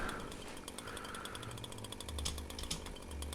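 A chainsaw revs and buzzes steadily, loud and close, with a rough grinding rattle and no voices.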